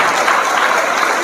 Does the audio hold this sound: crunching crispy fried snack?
no